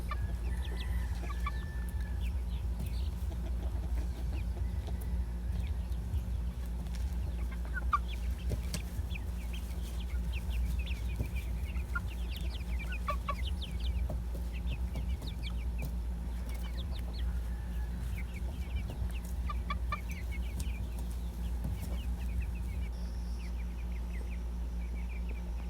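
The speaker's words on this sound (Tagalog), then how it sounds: "Ang lulusog ng ating mga manok mga lodi." Farm chickens around three months old cluck and chatter in scattered bursts over a steady low hum, with no voices, across a long stretch of continuous flock noise.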